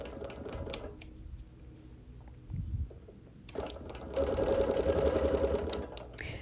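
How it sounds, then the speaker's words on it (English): A sewing machine runs in stitching bursts while quilting around the edge of a pieced block, with a brief pause before it resumes, steady and close. "So I'm quilting around the perimeter of the piecing."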